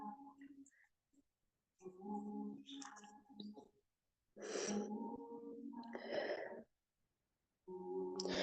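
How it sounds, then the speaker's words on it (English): Slow, deep breaths during yoga practice, several long inhales and exhales separated by quiet pauses, close and soft. "We're going to take 3 more breaths here."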